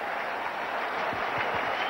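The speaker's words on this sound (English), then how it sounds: "The Indian captain acknowledging the applause from the crowd" Crowd at a cricket ground applauding the Indian captain after a long innings and declaration, a steady broad wash of clapping and crowd noise throughout with no break.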